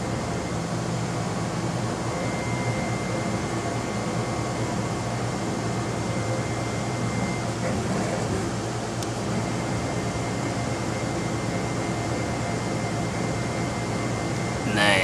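An ABS 3D printer lays down modeling material with a steady, continuous mechanical whir and fan hum that holds at an even level throughout, with faint higher motor tones drifting in and out.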